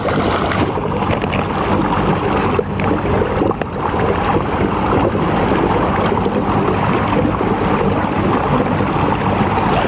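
A motorised float tube pushes along the River Thames under added throttle, giving a steady, loud, close hum blended with rushing water and wind noise, with no talk.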